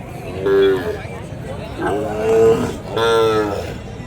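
Calves at a cattle market give three drawn-out lowing moos, fairly close and loud, over a background of crowd murmur and voices.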